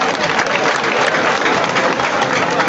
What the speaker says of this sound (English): Give them another hand clap.